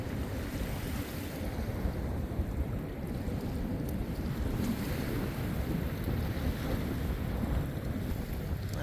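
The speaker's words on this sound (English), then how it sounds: "A wave came all the way up here." Waves wash up on Pensacola Beach as a continuous, loud, rushing surf roar mixed with heavy wind buffeting the microphone, steady throughout without distinct breaks.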